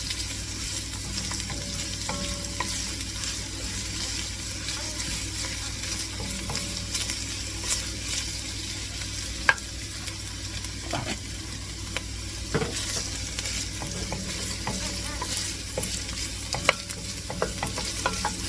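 Onions and garlic sauté in a soup pot until translucent, a continuous close sizzle broken by occasional clicks and scrapes of stirring, with no talking over it.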